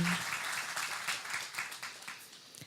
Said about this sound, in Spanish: Si le va a aplaudir, hágalo con ganas